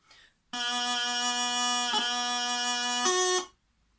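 Bagpipe tune with a steady drone and a chanter melody of a few sustained notes, loud and alone, beginning after a short pause and stopping abruptly near the end.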